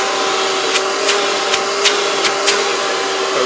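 A household vacuum cleaner converted into a wet vac runs with a steady, loud, close motor whine, broken by a few brief sharp clicks or knocks.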